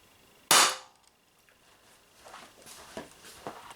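A single sharp, loud pop from an Umarex TP50 Compact air pistol in its 7 joule version rings out indoors, followed by faint light clicks and handling noises.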